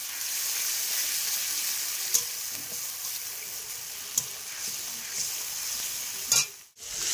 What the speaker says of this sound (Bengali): একটু কষিয়ে নেব মশলাটা।